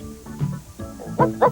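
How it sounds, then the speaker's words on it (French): A toy puppy in a television commercial yips and barks in short, high bursts like a real small dog, several quick barks rising in pitch toward the end, loud and close. "Il jappe comme un vrai."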